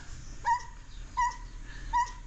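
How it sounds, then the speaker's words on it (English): A Doberman gives three thin, whiny barks at a steady rhythm, fairly distant and faint over quiet background noise, outdoors in hot weather at a hotel in Baja California Sur, Mexico. "That sound is coming from a Doberman."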